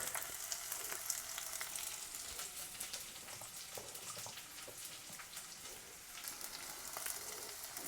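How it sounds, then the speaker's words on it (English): Torn curry leaves and onions crackle in hot oil in a pot as a potato curry is made. Faint, continuous sizzling is scattered with tiny pops throughout, close but quiet, with no voices. "And I'm going to add some curry leaves that I just tear up."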